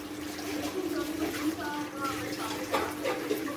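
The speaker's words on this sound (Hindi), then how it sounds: "अब मैं इसमें पानी ऐड करूँगी" Roughly a glass of water poured into a pot of lentils and chicken for shami kebab, a steady splashing trickle lasting a few seconds, close by, with someone speaking over it.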